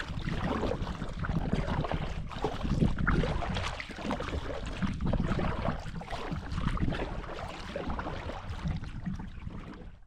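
A kayak paddled across open water on a lakeside road trip, with a steady wash of water and wind noise running continuously and fairly loud throughout, no voices.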